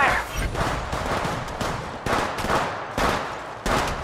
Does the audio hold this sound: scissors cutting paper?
no